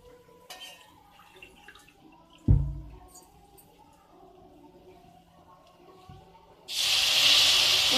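Water pours into a pan of browned arrowroot for tomato soup, a loud steady rushing stream that starts abruptly near the end after quieter kitchen clatter and a thump.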